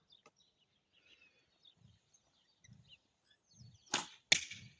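An arrow shot from a bow strikes the target with two sharp, loud thwacks close together near the end, following a mostly quiet stretch with faint scattered background sounds.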